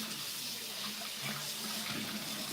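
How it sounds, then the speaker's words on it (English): Running tap water pours steadily over raw T-bone steaks being rinsed in a kitchen sink, a continuous close hiss of flowing water with no talk. "Now let me rinse them off"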